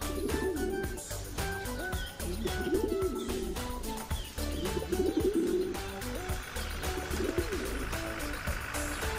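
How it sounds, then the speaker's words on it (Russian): Pigeons coo repeatedly in soft, rounded bursts while being fed outdoors, with scattered chirps from other birds mixed in and a low steady background hum throughout. "Кормит голубей на улице."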